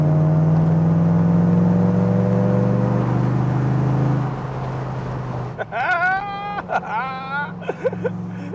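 TVR V8S two-seater sports car with a V8 engine, loud deep drone building and holding steady for several seconds before easing off, then a voice speaking over a lower idle.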